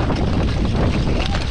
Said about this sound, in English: Wow, wind!